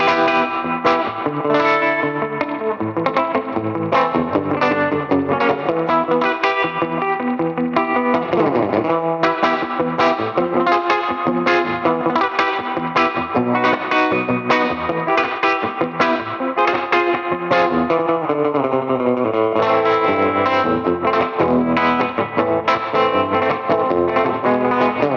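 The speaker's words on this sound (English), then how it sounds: "And it really exaggerates the sound of that tremolo." An electric guitar with Rockabilly PAF pickups from Tone Specific plays through tremolo after reverb, with loud sustained chords and notes that pulse in a steady throbbing rhythm and run without a break.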